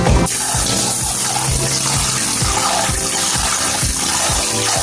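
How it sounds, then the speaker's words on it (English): Tap water runs steadily and loudly into a pot for cooking rice, a close continuous splashing gush with repeated low knocks underneath and no speech. "Alright guys, see the water is here."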